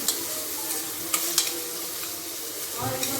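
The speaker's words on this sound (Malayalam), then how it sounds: "ആ നെയ്യിലേക്ക് ഒഴിച്ച് നമ്മൾ സവാള ഒന്ന് മൂപ്പിച്ചെടുക്കുകയാണ്." Onions fry in ghee with a continuous close sizzle, several light spoon clinks and scrapes as they are stirred, and a soft rustling shuffle near the end, without speech.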